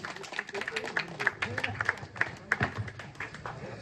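A crowd clapping at a village school alumni reunion for the 1993-94 batch, a brisk irregular patter of many hands at moderate distance, with voices mixed in.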